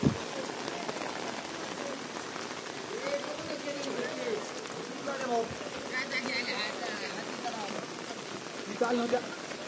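Steady monsoon rain pours at Raigad Fort near a lake, a dense continuous patter on surfaces close by, with people talking intermittently over it.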